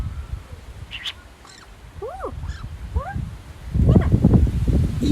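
A handful of short, rising-and-falling bird calls ring out over a windy outdoor hush, followed by louder rustling near the end.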